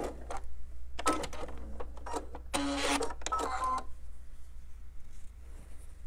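A home sewing machine stitches quilt pieces across pinwheel seams in short bursts, pausing between runs of stitching against a low steady hum.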